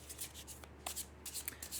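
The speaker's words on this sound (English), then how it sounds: "I'm just shuffling so you can see that it's done." A deck of tarot cards is shuffled by hand during a reading, giving soft, quiet bursts of riffling and sliding card noise in short repeated passes.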